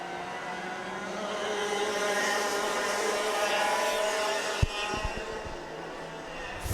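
A pack of racing karts drones past with high, buzzing engines in a kart race, a sustained close roar that eases slightly near the end with a few knocks.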